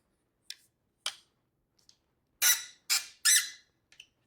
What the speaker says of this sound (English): I'm telling you, the squeak is no joke.